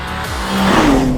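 BMW M3 CS Touring driven hard, close engine roar rising in pitch with a brief tire squeal layered in, loud and short.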